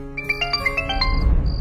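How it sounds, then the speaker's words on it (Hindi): A mobile phone rings with a bright, chiming melodic ringtone, a quick run of tinkling notes that repeats, heard close over a low rumbling background. "तभी अचानक ही आहान का मोबाइल बज उठा।"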